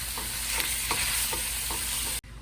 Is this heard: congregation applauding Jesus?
no